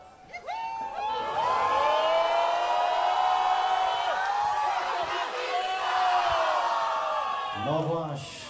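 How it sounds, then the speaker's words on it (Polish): Outdoor festival crowd cheering and whooping, a loud sustained roar of many voices with rising shouts layered on top, swelling and holding steady before fading at the end. "Tu jest tłum ludzi."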